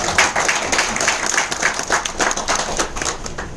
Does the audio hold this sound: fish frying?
no